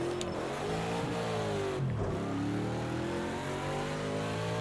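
A Ford Mustang GTD race car in a racing video game, set at Long Beach, its engine revving high and steady with a brief dip and gear change before climbing again, loud and continuous with no talk.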